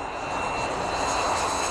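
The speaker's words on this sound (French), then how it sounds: "un avion se pose tous les matins à 10h30" An airplane landing at Nome, Alaska gives a steady loud engine roar and rushing whine, continuous and close, with no voices.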